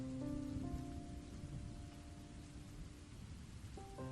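Heavy rain pours steadily outside the front of a house, a dense continuous hiss of drops on surfaces with faint low tones underneath.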